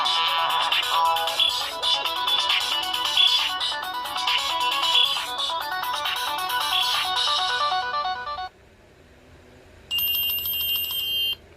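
A Nokia N70 mobile phone plays a bright, busy ringtone melody through its loudspeaker, loud and close, breaking off briefly before a high beeping tone resumes.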